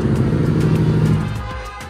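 A newly delivered Harley-Davidson motorcycle's engine revs loudly and close by in a thick, throbbing burst, then eases off near the end.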